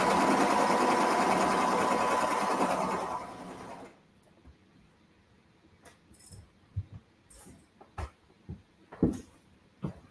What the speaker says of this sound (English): All right, so we're just going to sew it right down.